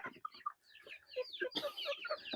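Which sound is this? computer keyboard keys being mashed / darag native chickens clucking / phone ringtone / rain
darag native chickens clucking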